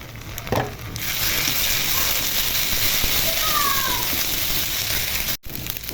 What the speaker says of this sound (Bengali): এখন আদা রসুন দিয়ে ভেজে নিব।